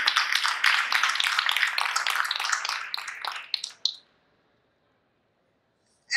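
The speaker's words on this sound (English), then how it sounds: "Can we have a round of applause for him?" A conference audience applauds with dense, crackling claps for about four seconds, then the clapping stops abruptly and quiet follows.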